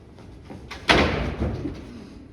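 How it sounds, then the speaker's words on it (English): A single dull, heavy knock lands on a door on a theatre stage, loud and close, followed by a short echoing tail in the room. "We both heard the knock."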